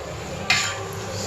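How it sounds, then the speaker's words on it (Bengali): Mixed vegetables sautéing in a pan in a home kitchen: a steady low sizzle with a single sharp metallic scrape or clink of a stirring utensil partway through, close and moderately loud, no talking. "সব রকম সবজি এখন কষানো হচ্ছে।"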